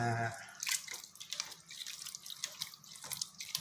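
Glutinous rice being washed by hand in water while making traditional fermented sweet rice, with repeated small splashes, drips and swishes, fairly quiet and close, following a brief tone at the start.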